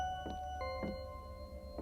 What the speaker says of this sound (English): to my doorbell ringing.